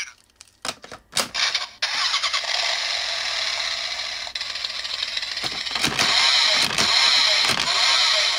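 A Kamen Rider DX Accel Driver toy transformation belt's electronic engine sound cranks and revs up, then settles into a loud, continuous idling rumble with mechanical clicks and squeals.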